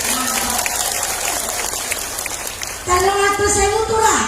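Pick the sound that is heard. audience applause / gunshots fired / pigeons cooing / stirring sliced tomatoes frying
audience applause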